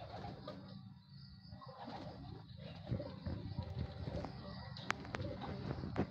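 Racing pigeons arriving at a loft give soft, intermittent coos close by, under the voices of people talking excitedly.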